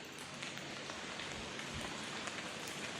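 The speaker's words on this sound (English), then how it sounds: "it's pouring rain though." Pouring rain hisses in a dense, even wash, with scattered heavier drops tapping through the steady downpour, fairly quiet and with no voices.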